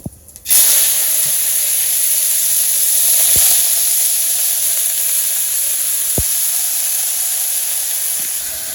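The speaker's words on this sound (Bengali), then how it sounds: "তেল গরম হয়েছিল জিরা দিয়ে দিচ্ছি এই জায়গায় সব সবজি আছে দিয়ে দিই" Vegetables with cumin seeds dropped into hot oil in a home kitchen: a loud, steady sizzle that starts abruptly and holds evenly, with a few faint clinks from utensils and no talking.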